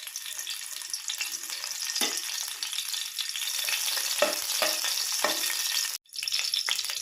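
Garlic fries in hot oil with a steady, close crackling sizzle and scattered sharp pops, carrying on without voices through a brief dropout near the end.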